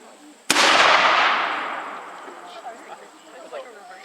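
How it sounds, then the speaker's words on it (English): A single loud volley of musket fire from a War of 1812 reenactment cracks out, then rolls away in a long fading echo, with distant voices afterward. "The British are going to fire once more, I think, hoping to knock some of the American cannon crew over."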